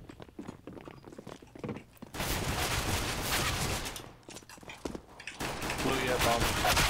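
Sustained automatic gunfire from panic spraying in CS:GO, loud and dense in long uninterrupted bursts with a brief gap in the middle, with a voice talking faintly in the background.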